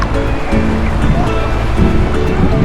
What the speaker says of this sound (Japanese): セーシェルプララン島のアンスラジオの海です